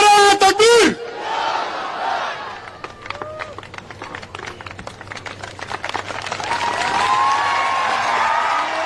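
At a political public meeting in Mangrol, Gujarat, a large crowd answers the Naara-e-Takbeer slogan call with a loud roaring shout, followed by scattered clapping and rising crowd noise.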